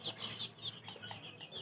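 Two-month-old chickens cluck in a steady, close chatter of short calls that overlap against a soft background hiss, with no voices present.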